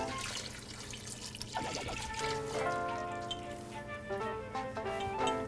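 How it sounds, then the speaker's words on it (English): Broth is poured into a soup pot for Mexican meatball soup, giving a close, bubbling splash and trickle that swells and changes pitch as the pot fills, with no talking. "get that broth in there"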